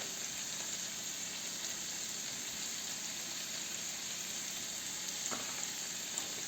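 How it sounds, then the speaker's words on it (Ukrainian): Vegetables frying in a pan with smoked paprika, a steady soft sizzle at low level throughout, with a faint stir or clink near the end. "І пересмажую ще отаку, щоб розійшлися всі, з'єдналися смаки"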